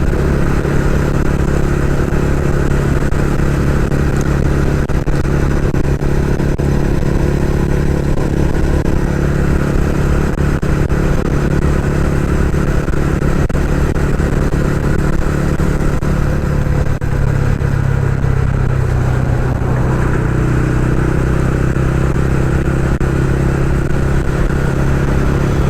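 A TVS Ronin 225 motorcycle rides on an open road in the morning, its engine droning steadily and loudly for a long stretch, with wind rush and a shift in engine pitch partway through.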